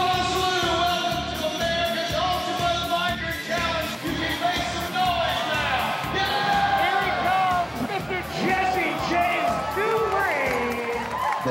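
A biker rally crowd at a saloon cheers, yells and whoops continuously, dense and loud, with voices shouting over a steady pounding beat throughout.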